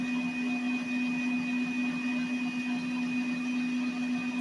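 An electric mixer beating oatmeal cookie dough in a bowl, a steady, even motor whine with a constant hum that runs unbroken throughout, loud and close, with no one speaking.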